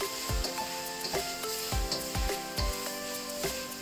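Tomatoes cooking down in a pan for menudo sizzle steadily up close, with a continuous frying hiss broken by repeated scraping strokes and light clinks of a utensil stirring, and no voices.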